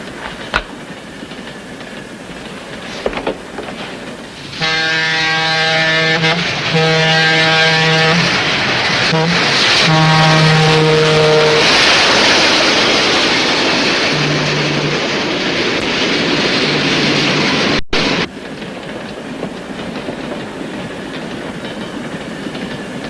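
A train rumbles along the rails with a steady roar, rhythmic clickety-clack and a sustained horn-like tone sounding for several seconds.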